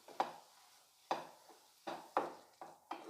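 A spoon stirs a prawn chop mixture with ketchup and coriander in a pan, giving about seven soft, irregular scraping taps, close and quiet, with no talk.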